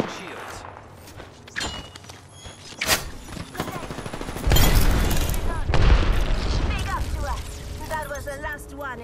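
Enemy gunfire in the video game Apex Legends: sharp bursts and booming shots come in irregular clusters, growing denser and louder midway through, mixed with game sound effects and a voice talking.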